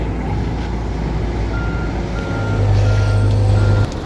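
A long truck reverses through a tight area, its engine rumbling steadily up close while a loud, low reversing beep sounds toward the end.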